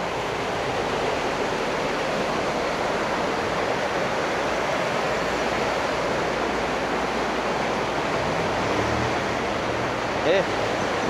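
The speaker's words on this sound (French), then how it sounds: "c'est la rivière que j'entends" A river rushes steadily nearby, a broad, even wash of flowing water that fills the whole stretch with little change, and a faint voice briefly surfaces near the end.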